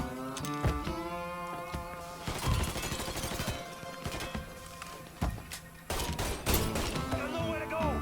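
Gunfight in the video game Mafia III, with bursts of sharp gunshots and rapid volleys over a loud tonal game soundtrack, and voices shouting between shots.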